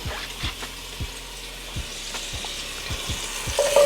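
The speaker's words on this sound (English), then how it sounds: "And then we're going in with our veggies. So the onions, the carrots." Onions and carrots sauté in a skillet as the base for BBQ short rib sliders, a steady broadband sizzle broken by regular scraping stir strokes roughly every half second, close and moderately loud with no talking.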